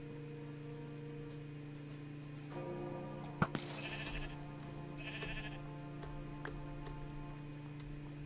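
Sheep bleating in the Minecraft video game, a couple of short faint bleats over a quiet, steady droning game background, with a small click and a brief high tone near the end.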